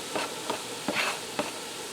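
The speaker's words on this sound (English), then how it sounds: "I'm going to allow this to fry for a few minutes so it's almost completely browned." Ground beef and diced onion frying in an Instant Pot, giving a steady soft sizzle broken by a few light scraping stirs, close by and alone without talk.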